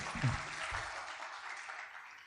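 An audience at a Tiens Indonesia business event gives brief, fairly faint applause that starts with a short vocal sound, then settles into a steady, soft patter.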